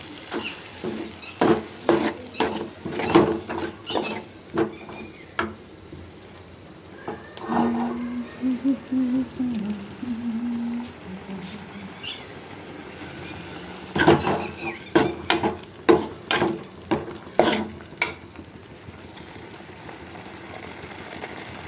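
Tomatoes fry in a pan for mushroom gravy, with sharp clattering stirs of a utensil against the pan coming in bursts over a faint sizzle, close, and a voice talking briefly in the middle.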